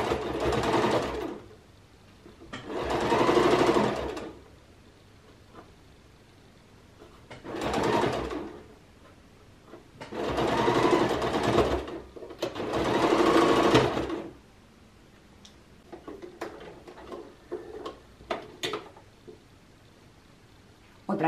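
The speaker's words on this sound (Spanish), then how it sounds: "Otra vez la puntada de refuerzo" Sewing machine running a reinforcing stitch on cotton fabric, heard in four distinct bursts of steady whirring separated by pauses, followed by faint handling clicks and rustles near the end.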